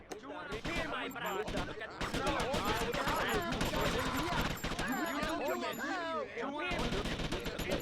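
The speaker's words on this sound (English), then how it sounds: "Oh no, they're shooting." Gunfire in GTA Vice City crackles in dense bursts throughout, layered under busy game sounds and talking voices, fairly loud and continuous with sharp transients scattered across the clip.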